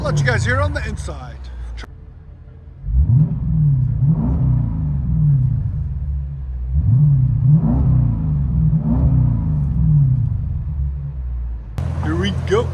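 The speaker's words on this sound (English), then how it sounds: "Jeep Grand Cherokee with bottle resonators and Flowmaster Outlaw rears." Revving of a 2023 Jeep Grand Cherokee 5.7L HEMI V8 Summit Edition fitted with bottle resonators and Flowmaster Outlaw rear mufflers, heard from inside the cabin: a low droning idle swells into several deep rev surges. Voices talk at the start and end.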